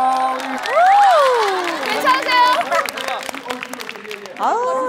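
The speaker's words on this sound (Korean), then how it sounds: "뜨거운 박수 부탁드립니다" A TV studio audience cheers and claps after a trot song performance, lively crowd noise with shouts, while voices talk and exclaim over the top.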